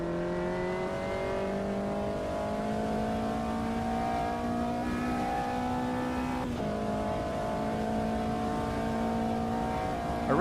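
Race car engine in the sim racing game Automobilista 2, a steady sustained drone with harmonics rising gradually through the gears, one brief dip and a shift near the middle, loud and continuous with no voices.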